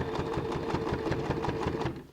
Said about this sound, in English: I'm just going to place my bias tape like this and just run 2 seams on either side of my bias tape.